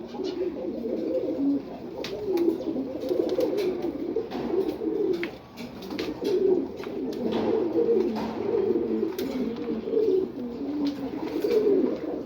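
Pair of racing pigeons cooing nearby, repeated soft throaty rolling coos in overlapping phrases, steady and close, with no talk.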